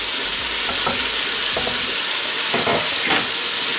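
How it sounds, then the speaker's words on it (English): Onions, green beans, carrots and cabbage frying in a skillet for pancit canton, a loud, dense, continuous sizzle with a few brief stirring scrapes. "We're going to add our onions, our green beans, our carrots, and our cabbage into our skillet."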